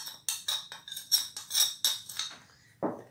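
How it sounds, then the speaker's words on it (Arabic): Semolina, flour, sugar and salt are stirred in a bowl with a ladle for baghrir batter, giving a series of bright, close scraping clinks at an uneven rhythm, followed by a softer low knock near the end. "نخلطهم غير بالمغرف"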